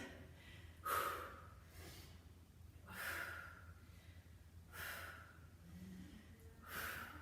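Heavy breathing during a glute exercise circuit: four loud, breathy exhales spaced about two seconds apart, close to the microphone over a low steady hum, no talking.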